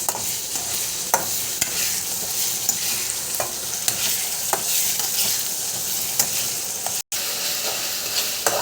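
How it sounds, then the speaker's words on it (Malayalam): Ginger garlic paste sautéing in a pan, a steady close sizzle broken by regular scraping clicks of stirring, with no voices over it. "ഇഞ്ചി വെളുത്തുള്ളി പേസ്റ്റ് ഒരു ടേബിൾ സ്പൂൺ ഇട്ട് കൊടുക്കാം. എന്നിട്ട് നന്നായിട്ട് വാട്ടി കൊടുക്കാം."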